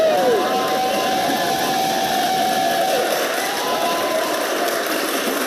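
A dense wash of audience applause and cheering fills a panel discussion hall steadily from start to finish, with a voice partly heard through it.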